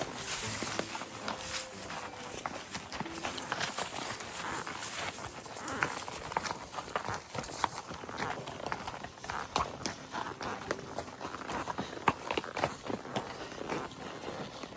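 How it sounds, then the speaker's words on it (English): Hooves of Doc, a nine-year-old horse, fall in a steady walking rhythm on the Sleepy Hollow Trail at Big Creek in Missouri, close and continuous throughout. "Ride my horse Doc today."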